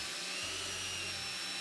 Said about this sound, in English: You can do this by hand with a brush, or you can use one of these, a drill brush.